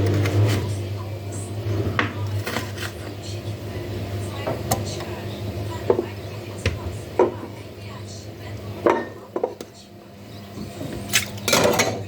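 Dishes and pots clatter in a home kitchen where hot peppers are being chopped, with scattered knocks and clinks spread through a steady low hum and background voices.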